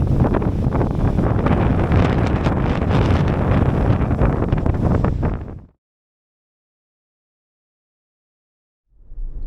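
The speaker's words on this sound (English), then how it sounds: "it is extremely windy up here" Loud, buffeting wind roaring across the microphone for several seconds, cutting to silence, then gusting back in briefly at the end.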